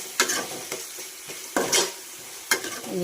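Ginger garlic paste with turmeric sizzling in a pan while a spatula stirs it in three or four scraping strokes, close and steady with no talking.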